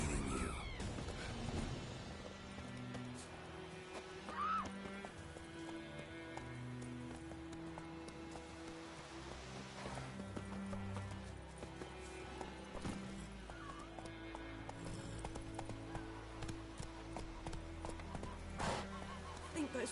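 Roach, a horse in Witcher 3, gallops with rapid, repeated hoofbeats and an occasional neigh, mixed under steady game music throughout.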